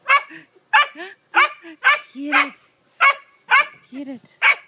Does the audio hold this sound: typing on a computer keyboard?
no